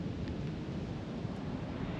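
Ocean surf below coastal hills rolls in as a steady, broad wash of noise, with wind buffeting the microphone and no distinct breaks.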